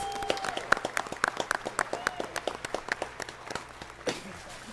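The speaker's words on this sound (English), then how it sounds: "Can we give them a round of applause, please?" Scattered applause in a city council chamber greets a high school girls basketball team, individual claps distinct and fairly sparse at moderate distance, with some murmuring voices beneath.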